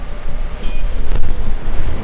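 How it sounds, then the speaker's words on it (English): Ocean surf on a Hawaii shore, wind gusting across the microphone over surging waves, loud and close in a short burst. "You hear the birds, the waves"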